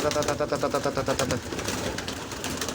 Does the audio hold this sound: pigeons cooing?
yes